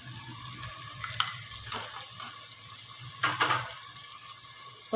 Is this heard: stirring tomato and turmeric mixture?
yes